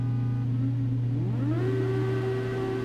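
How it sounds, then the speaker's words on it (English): Formula Student race car engines hum steadily at the start of a Grand Prix, then one engine's pitch sweeps upward as it revs and holds a higher tone, loud and continuous with no talk. "As we hear the engines roar for this Grand Prix."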